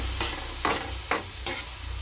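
Tofu and beans sauté in a pan with a steady close sizzle, broken by four evenly spaced scraping stirs or presses of a spatula against the pan.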